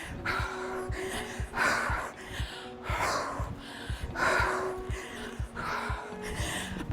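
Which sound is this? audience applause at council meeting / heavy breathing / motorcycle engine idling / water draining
heavy breathing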